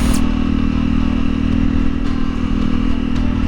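A 2021 Honda CRF 300L motorcycle being ridden, its engine a loud, close, steady hum with a faint clatter throughout.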